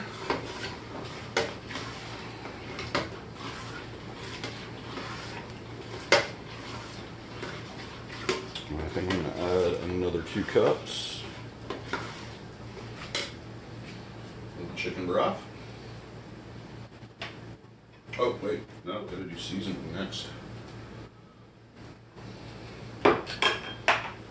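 Sausage and Moorish sauce being stirred in a pan, with repeated clinks and scrapes of a utensil against cookware over a steady low hum, a voice talking intermittently throughout.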